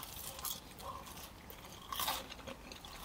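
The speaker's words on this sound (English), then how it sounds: "let's try some fries first" Crunching bites into crispy fries at a meal, a few close crunches with a louder burst near the end, no talking.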